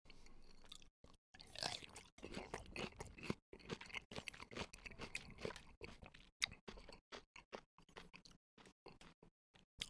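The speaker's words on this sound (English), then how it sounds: "Shrimp tempura rolls all day for me. I just love that crunch." Shrimp tempura sushi rolls are chewed up close, giving a rapid series of crisp, irregular crunches and bites broken by brief silent gaps, quiet overall and with no speech.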